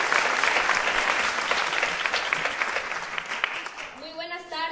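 Loud audience applause at a public event welcoming two children, a steady crowd of clapping that fades near the end as a voice begins speaking.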